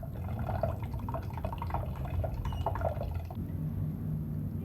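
Water dripping and trickling out during a dehydration demonstration: faint, irregular drips and small splashes in a quiet room, with a soft liquid run near the end.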